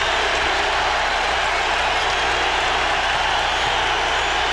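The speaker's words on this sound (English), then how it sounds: "Crowd roaring." Steady, dense roar of a packed basketball arena crowd during an NBA Finals game, a continuous broadband wash of cheering that holds evenly loud for the whole stretch without a break or distinct voices.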